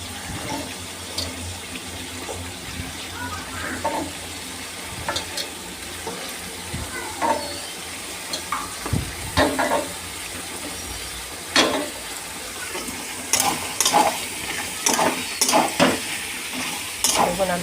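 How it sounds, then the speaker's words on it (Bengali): Eggplant and potato frying in fish oil in a pan, with a steady sizzle under scattered stirring scrapes and clinks that grow busier toward the end; no one speaks. "বেগুন, আলু আর মাছের তেল। এটাকে আমরা ভাজা ভাজা করে নেব।"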